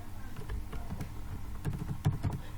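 Soft typing on a computer keyboard while creating a document in Word 2007, a few scattered key taps over a low background hum, with a small burst of clicks near the end.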